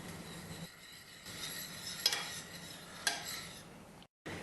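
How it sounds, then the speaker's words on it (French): Softened gelatine being stirred into a warm mixture in a pan, a soft steady scraping with a few light utensil clicks against the pan. "on ajoute la gélatine ramollie et on mélange jusqu'à ce qu'elle soit fondue"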